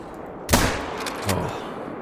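Two sharp rifle shots ring out in theHunter: Call of the Wild during a fox and pheasant hunt. A loud first crack with a decaying tail is followed by a softer second shot under a second later.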